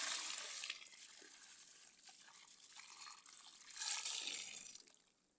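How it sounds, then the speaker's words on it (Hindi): Water pours onto a potted aloe vera plant, a steady close hissing splash that runs for several seconds, swells briefly near the end, then stops. "अब इसको पानी देती हूँ"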